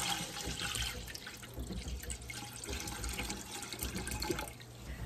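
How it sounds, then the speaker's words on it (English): Tap water pours steadily into a Presto pressure canner being filled to its fill line before canning pea soup, a continuous close splashing rush with no talk. "I'm just filling up the water up to that point and I'll finish setting up the canner"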